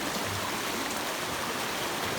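Steady broadband rush of a river flowing close by at Valentine Eastern Sierra Reserve, with no voices.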